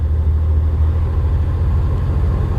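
A 1939 Plymouth Mayflower sedan's engine pulls steadily in second gear on a road, giving a continuous low, smooth rumble from inside the car with no talk.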